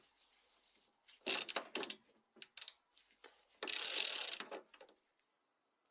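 Headlight clips on a Toyota Celica ST202 being tightened, several sharp ratcheting clicks in short bursts and one longer run, close and quiet between the bursts, with no speech.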